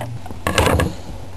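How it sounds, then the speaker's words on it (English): A sewing machine bursts into a brief, loud mechanical whirr of stitching, zigzagging fabric for a DIY messenger bag, lasting under half a second before the motor stops. "Put on the sewing machine. I'm going to chuck a zigzag on for this."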